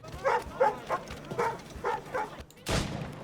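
A dog in Assassin's Creed barks in a quick series of sharp yaps, five or six in a row, followed by a louder burst of noise, with game-like background sound.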